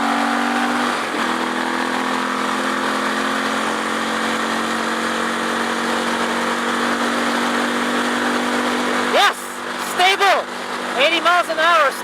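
A car's engine drones steadily on the freeway with a rising pitch as it picks up speed, under someone talking throughout.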